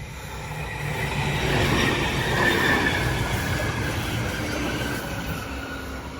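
A Parramatta light rail tram passes during testing at Rydalmere, its rumble and rail noise swelling as it nears, peaking midway, then easing off while still rolling by.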